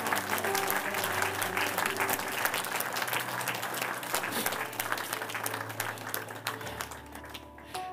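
A church congregation applauds during a French-language service, with sustained, dense clapping over a low held organ or keyboard tone that fades near the end.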